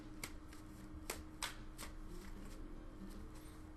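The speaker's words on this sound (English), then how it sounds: "Keep shuffling." Tarot cards are shuffled close up in a quiet room, giving a series of crisp, separate riffle snaps at an irregular pace over a low steady background hum.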